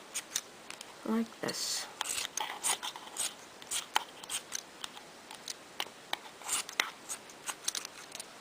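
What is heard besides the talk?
scissors cutting around a lid through yarn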